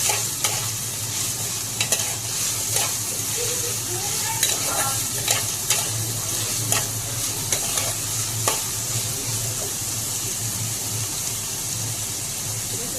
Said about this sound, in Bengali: আর কেটে রাখা সবজিগুলো এখন ভালোভাবে আমি ভেজে নিচ্ছি।